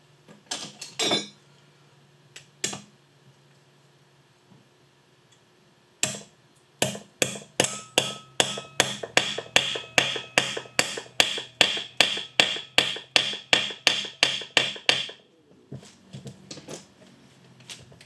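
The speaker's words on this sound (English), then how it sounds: "And this you just hammer in." A quiet few knocks, then a long run of sharp, evenly spaced metal hammer blows, about two dozen in steady rhythm, close and loud, hammering a part into an NV3550 transmission during a rebuild.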